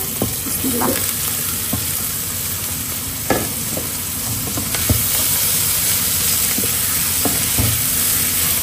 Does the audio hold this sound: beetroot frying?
yes